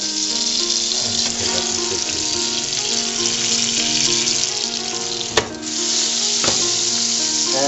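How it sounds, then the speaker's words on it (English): Onions and garlic sauté in butter and oil in a pan, a steady, loud sizzle that runs the whole time, with a sharp clink near the middle and another later on. "And we'll saute the onions and garlic."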